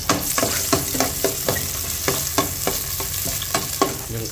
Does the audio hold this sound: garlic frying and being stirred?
yes